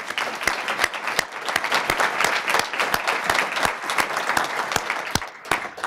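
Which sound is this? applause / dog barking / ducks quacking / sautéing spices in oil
applause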